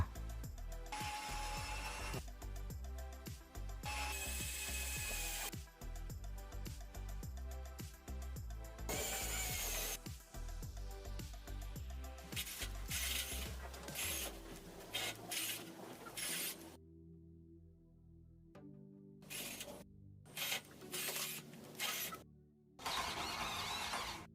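Several bursts of a battery-powered Endika cordless drill whining and grinding into wood, nearly boring through, loud and close, separated by short pauses of near silence toward the end.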